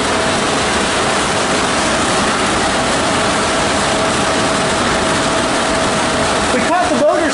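Elevator machine room motor and four pumps running in the former Newseum in Washington DC, a loud, steady mechanical drone that fills the space continuously with a brief rattling disturbance near the end.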